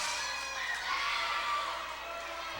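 Fans on both sides of a high school volleyball gym keep up a steady roar of cheering and shouting, young voices blending into a continuous, fairly distant wash.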